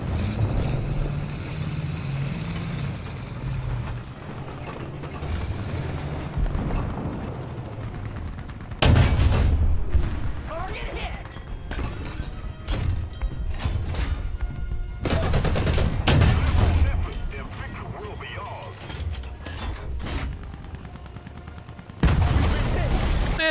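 Sniper rifle shots and bursts of gunfire from the video game Metro 2033, loud sharp cracks clustered at intervals over steady game ambience, with a voice talking in between.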